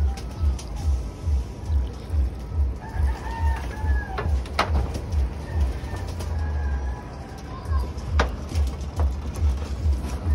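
Caged chickens and birds inside an enclosure: repeated clucks and a rooster's crowing over a pulsing low mechanical thump, with occasional sharp knocks, fairly loud and close.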